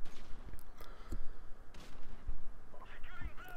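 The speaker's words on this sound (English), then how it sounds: "it sounds amazing, the gun sounds, the explosions" Call of Duty gameplay with bursts of gunfire and booming explosions, sharp repeated shots and heavy blasts in quick irregular succession, with a voice talking over the action.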